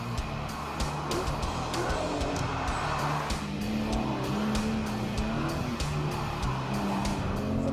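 Aston Martin Vanquish driving and braking on a wet road: a steady, loud engine drone with shifting pitch, the hiss of tires on water and a brief squeal, with no talk.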